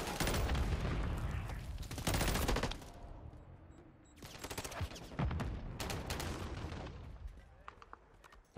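Rapid automatic shotgun blasts from a video game ring out in loud repeated bursts, pausing between volleys, with a player's voice faintly underneath.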